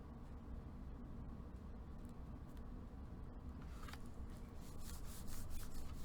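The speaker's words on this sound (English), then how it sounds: "And then burnish the other side." A burnishing tool rubs steadily across glued paper on a craft project, making a close, continuous dry scraping hiss that grows a little louder and brighter near the end.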